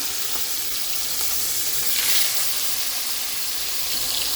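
Marinated tilapia fish frying in hot oil, with a steady, close sizzle and crackle running unbroken throughout, with no voices.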